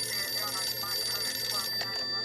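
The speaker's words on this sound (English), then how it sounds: "Bob Crane's phone rang." A telephone rings in an apartment, a steady electronic bell tone that holds through the short stretch, with a voice speaking faintly in the background.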